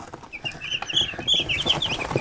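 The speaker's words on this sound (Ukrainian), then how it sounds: "30 голів пташенят." Broiler chicks, about thirty birds weighing 80 to 90 grams, cheep in a steady run of high, thin chirps. The calls rise and fall across the clip over a soft background murmur, and no one speaks.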